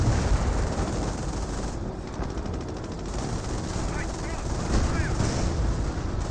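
Battle in the video game Company of Heroes with a Panther tank firing, booming tank shots and rumbling combat noise forming a dense loud wash, with a commentator talking over it.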